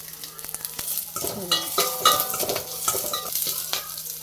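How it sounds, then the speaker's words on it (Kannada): Oil sizzles in a pan as tempering spices for sambar are added and stirred, with light scraping and clinking of a spoon against the pan nearby. "ಈಗ ಸಾಂಬಾರಿಗೆ ಒಗ್ಗರಣೆ ಹಾಕ್ಕೊಳ್ಳೋಣ"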